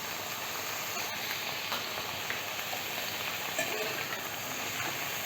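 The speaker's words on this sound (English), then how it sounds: "We'll give it a nice mix, and we'll cook this only on a low flame." Brinjal and methi sabzi cooks in a pan over a low flame, giving a quiet, steady sizzle with faint crackles throughout and no talking.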